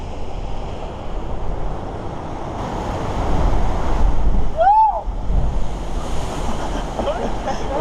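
Ocean surf washes steadily onto a beach known for sneaker waves, a broad continuous roar with a brief whistling tone midway and wind buffeting the microphone.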